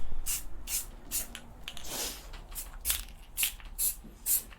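Short bursts of aerosol spray paint misted in light coats over an art toy during priming, about ten quick hissing puffs in an irregular rhythm, close and fairly quiet, with no talking.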